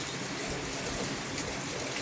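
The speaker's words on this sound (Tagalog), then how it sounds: "Ang tagal namin inantay ang ulan na ito." Heavy storm rain pours steadily outdoors near a house in a dense, unbroken hiss that is loud and continuous, with no voices.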